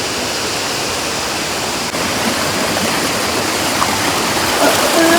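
Olagode Falls pours through dense forest as a loud, steady broadband rush of falling water, continuous and close for the whole stretch with no let-up.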